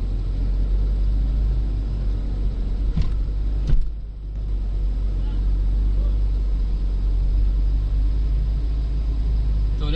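A motor tricycle's engine drones steadily nearby as the vehicle rolls along, a continuous low rumble with one brief dip and a clunk midway, while people talk over it at times.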